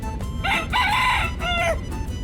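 A rooster crows close by outside the San Juan, Puerto Rico tourist information office, a single drawn-out cock-a-doodle-doo rising and falling over about a second and a half against low street background.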